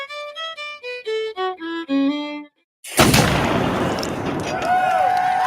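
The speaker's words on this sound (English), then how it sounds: "cannon fire marked the start of the day-long celebration" Cannon fire opening a day-long 1875 Emancipation celebration: after a short run of tonal musical notes, a heavy boom bursts in and rolls into a long, noisy rumble with whistling streaks, loud and close.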